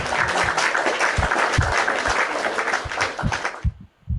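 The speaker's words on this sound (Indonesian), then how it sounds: "Tepuk tangan buat Tuhan." A church congregation gives a loud, full round of applause during a sermon, with lively clapping that fades quickly near the end.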